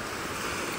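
Strong ocean waves at Mansalay bay, a loud continuous roar of surf with wind noise on the microphone, no voices.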